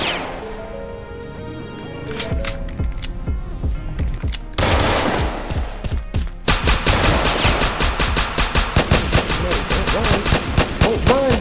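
Rapid bursts of automatic gunfire crack through a Roblox hood game set in the South Bronx, dense volleys building after a quieter start and running loud and continuous to the end.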